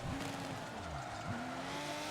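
A race car in Forza Motorsport 7 howls through its gears, the engine pitch climbing and dropping with each shift while tires squeal and skid. The sound is loud and continuous over a rough background roar.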